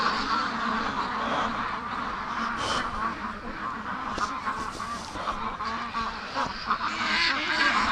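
Muscovy ducks outdoors, perched on tarps near a farmyard, give a steady run of overlapping quacks and honking calls at moderate distance, continuous for several seconds with no voices.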